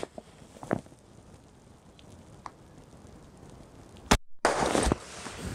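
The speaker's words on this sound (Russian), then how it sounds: "Делаем крайний выстрел на 35 метров." A single shotgun blast during a patterning test at 35 metres with a goose choke and 40-gram load, one sharp loud report arriving late after quiet outdoor ambience.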